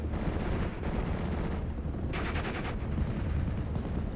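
Gunfire in Steel Division: Normandy 44 during the Utah Beach mission: dense, continuous battle noise with overlapping rifle and machine-gun bursts over a heavy rumbling bed, steady and loud throughout.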